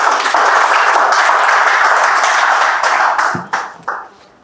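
Dense applause from an open mic poetry audience, steady for about three seconds, then thinning into a few scattered claps before fading out.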